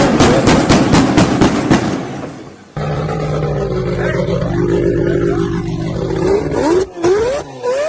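A Mazda RX-7 or RX-8 rotary engine fires a rapid burst of sharp exhaust pops and crackles, then settles into a loud, buzzing rev that rises and dips in quick blips.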